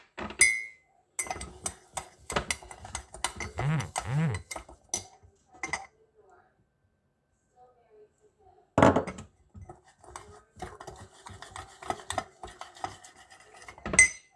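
A spoon rapidly clinks and whisks against a cup, beating instant coffee, in quick, steady bursts, stopping briefly, then resuming with more clatter; a voice speaks in between.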